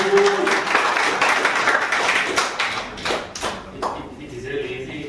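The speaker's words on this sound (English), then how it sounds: "So give him a warm applause." Audience applause at a startup weekend final pitch event, a loud burst of clapping from the crowd that thins into scattered claps and fades out within a few seconds, with voices heard alongside.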